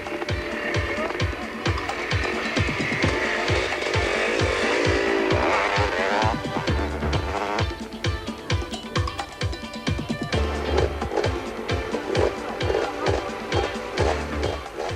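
Racing motorcycles, among them a 500cc Yamaha, blare past in a 1987 Baberspan 500 race, giving a loud, continuous engine roar with a rapid pulsing beat and shifting pitch as they pass.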